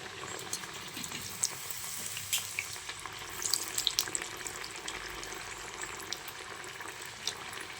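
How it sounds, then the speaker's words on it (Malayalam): Nei pathiri fries in hot oil, a steady close crackling sizzle with scattered sharper pops and brief bubbling surges, no voices over it. "നമുക്കറിയുന്ന പോലെ പൊരിച്ചെടുക്കാം"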